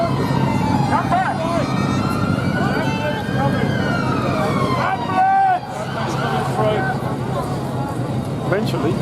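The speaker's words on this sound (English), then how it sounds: "Always an ambulance." An ambulance siren wails and sweeps up and down as it passes along a street, loud and near over traffic rumble, while people shout and talk nearby.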